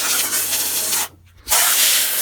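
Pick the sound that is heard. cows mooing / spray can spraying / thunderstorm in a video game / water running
spray can spraying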